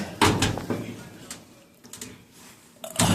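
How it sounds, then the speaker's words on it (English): A GE washing machine door is closed, with a dull thud near the start and another at the end, close by, while a person talks quietly between them. "Let's go ahead and close the door."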